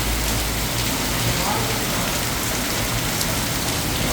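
Heavy storm rain in Kanchanaburi pours down in a dense, unbroken hiss at close range, steady and loud with no pauses.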